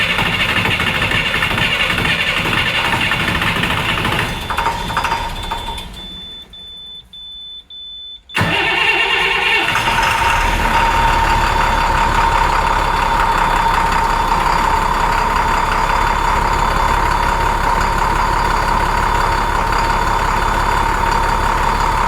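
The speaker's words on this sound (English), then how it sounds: "And we're gonna go and try to crank over the engine." A school bus engine, just back from coolant line repairs, cranks briefly with a beep, then catches and settles into a steady, loud, continuous idle. No one speaks.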